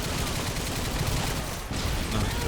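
Dense, sustained RPD machine gun fire in Call of Duty: Modern Warfare 2 keeps up an unbroken, loud rattle with one brief dip partway through.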